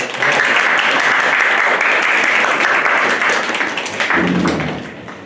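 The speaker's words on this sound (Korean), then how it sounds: "박수 부탁드립니다." An audience at a social venture talk applauds, a dense, steady burst of clapping that fades out after about five seconds.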